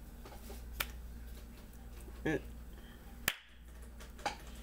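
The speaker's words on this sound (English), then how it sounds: "That was the clap." One sharp hand clap rings out close by against a quiet room with a low steady hum, preceded by a few faint ticks and small taps.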